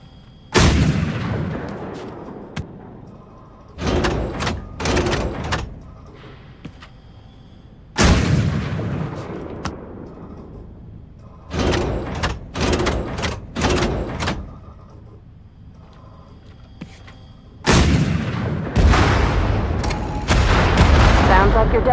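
Heavy artillery gun blasts in the video game Wolfenstein II: The New Colossus, four loud booming bursts with rumbling decay at irregular intervals, separated by quieter stretches.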